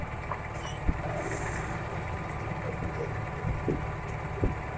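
A sewing machine stitches the neck of a pinafore top, making a steady low mechanical hum with a few faint clicks and knocks throughout. No one speaks.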